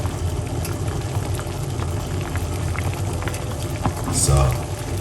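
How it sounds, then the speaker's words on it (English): Water boiling with parsley and lemon for tea, a steady bubbling, hissing simmer that holds at an even level throughout, swelling slightly near the end. "as you can see, it's going to be boiling again."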